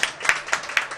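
A worship congregation clapping together in a church service, short rhythmic claps landing at a steady quick pace, moderately loud and without voices.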